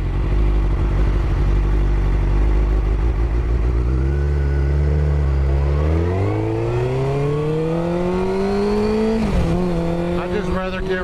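A motorcycle rides among cars in traffic, its engine droning loud and close, then climbing steadily in pitch as it accelerates through the gears, dipping briefly at a shift before rising again.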